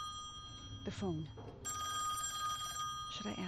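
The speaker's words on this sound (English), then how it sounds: "That's the phone." An old-style telephone bell rings in a dark house in the horror game Song of Horror, with a short voice heard before it. The bright, sustained ring is moderately close.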